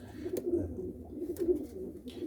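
Pigeons coo in a few low, throaty phrases close by, with a soft rolling rhythm.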